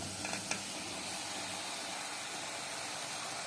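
Fava beans tipped into a hot pan of sautéed garlic and coriander, a quick soft clatter followed by a steady, gentle sizzle and hiss that continues to the end.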